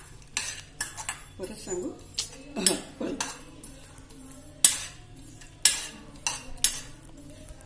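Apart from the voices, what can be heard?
dry roasting poppy seeds, carom and cloves in a pan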